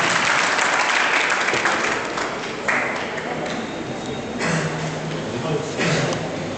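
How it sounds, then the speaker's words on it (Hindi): An audience at a quiz programme in Mandi Dabwali applauds the quiz master with steady, dense clapping that fills the whole stretch, fairly close and sustained, with a voice briefly over it. "इनके लिए एक बार जोरदार तालियां"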